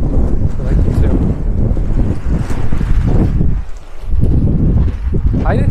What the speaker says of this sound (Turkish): Çok acayip bir rüzgar var ya.